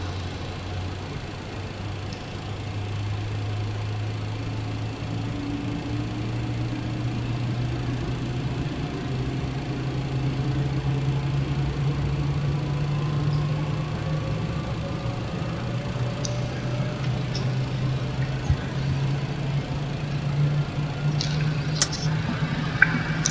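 Engine number 1 of a FedEx MD-11F starting in Microsoft Flight Simulator 2020: a steady low whine slowly rises in pitch as the jet spools up, with a faint airy hiss and a few soft clicks near the end.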